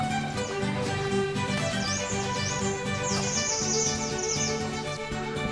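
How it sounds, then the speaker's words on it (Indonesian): Busy birdsong with many chirps and trills over a steady insect drone in the mountain forest of Mount Merbabu, Indonesia, continuous and moderately close, no voices. "Banyak suara burung juga."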